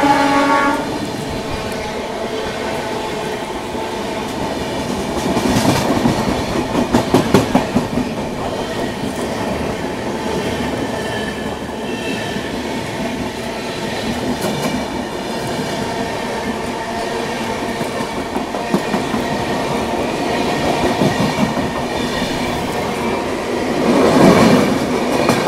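A passenger train rolls steadily past on the opposite track at an Indian station, a long, loud continuous rumble with rhythmic wheel clatter and occasional louder surges for about twenty-five seconds.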